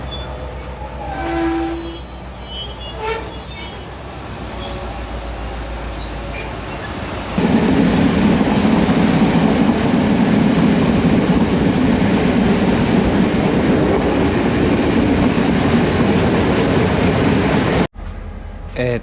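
An old train in Sri Lanka rolls along the rails with a steady rumble and clatter that swells loudly partway through, then cuts off near the end; faint voices early on.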